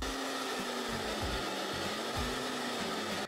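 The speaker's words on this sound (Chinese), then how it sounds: "工具启动时，吸尘器自动启动；工具停止时，吸尘器自动停止。" A 1200 W vacuum dust collector runs with a power tool, a trim router, giving a loud, steady, close roar that holds unbroken for about three seconds before cutting off abruptly.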